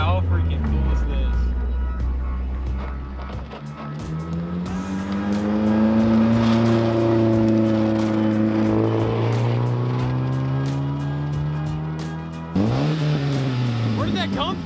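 Race cars roaring around a short 3/10-mile oval track, engines droning loud and near with rising and falling pitch as cars pass and shift, while people talk over it.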